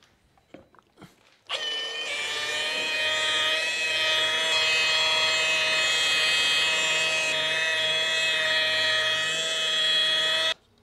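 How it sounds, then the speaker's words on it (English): Car polishing buffer with a clear-coat pad spinning around 1200 RPM, switching on after a few clicks into a steady, loud whine with a tonal motor hum that holds evenly before cutting off. "I'm running the buffer around 1200 RPM, not too high"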